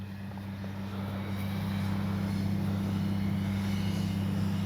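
A steady electric motor drone from a Dynam EMB-312 Tucano RC model airplane damaged in shipping, with a low, even hum that holds constant throughout, slightly rising in loudness, with faint wind noise around it on a windy day.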